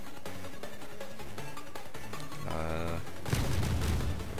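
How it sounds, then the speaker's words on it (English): In the video game Risk of Rain, exploding ghosts set off a dense volley of booming blasts. Overlapping pops build to a loud, roaring burst near the end. "The ghosts all explode."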